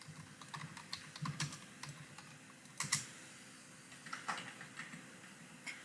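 Keywords typed into a search box on a computer keyboard: an irregular stream of soft key clicks at moderate distance, with occasional louder taps and brief pauses, and no voices.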